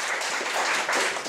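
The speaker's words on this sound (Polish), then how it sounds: "brawa dla kamery." Brief burst of audience applause, a dense patter of many hands clapping at once, steady and moderately loud.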